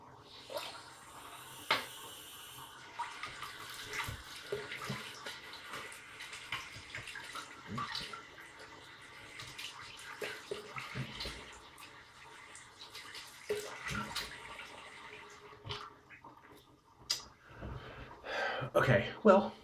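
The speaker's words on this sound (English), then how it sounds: "let me rinse off." Running tap water splashes in a bathroom while someone rinses off after shaving with a vintage slant razor, with intermittent splashing and dripping near the sink throughout.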